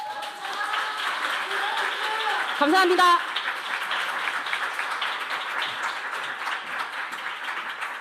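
An audience at a youth speech contest in Seoul applauds a speaker, with dense, steady clapping throughout and a brief spoken thanks partway in.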